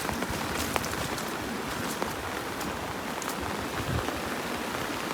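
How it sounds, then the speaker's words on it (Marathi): Steady rain pours down on a flooded fishing spot, a dense even hiss of drops pattering on surfaces without a break. "तर पाऊस काही थांबत नाही"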